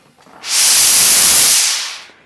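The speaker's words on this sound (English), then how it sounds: "Watch the steam." A Laura Star iron lets out one loud burst of steam, a strong hiss that builds fast, holds for about a second and a half, then fades away.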